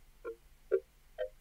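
Three short synth notes made in Native Instruments Massive sound one after another at an even pace, each a soft, breathy, voice-like tone with a quick swell and fade, alone and moderately loud.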